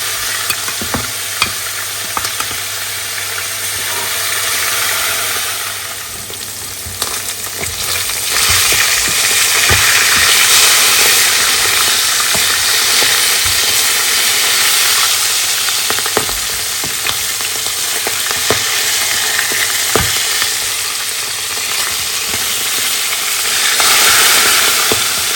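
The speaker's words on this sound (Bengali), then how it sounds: "মাছ ভেজে উঠায় ফেলছি" Fish frying in a pan with a steady, loud sizzle and hiss throughout, with occasional stirring clinks and scrapes close by in a home kitchen.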